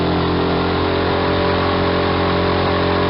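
Loud, steady drone of a Suzuki DF 6 outboard motor running at idle, a continuous low engine hum with no voices.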